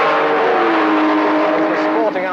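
BMW race cars roar loudly and continuously at close range, a dense engine din with a voice speaking over it near the end.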